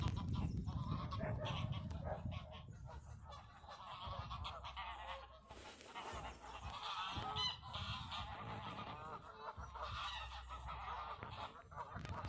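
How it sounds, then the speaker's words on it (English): A flock of geese honks loudly and continuously in a park in Sutton Coldfield, with gulls circling overhead; overlapping calls come thick and close for the whole stretch. "the geese are absolutely noisy right here"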